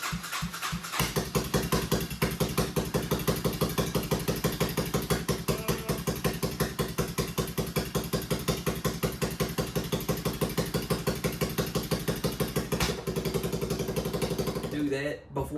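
A Suzuki Savage 650 single-cylinder motorcycle, stored for 24 years and taken apart, fires up after a second of cranking. It then idles close and steady with an even, thumping beat, and a short clatter comes near the end.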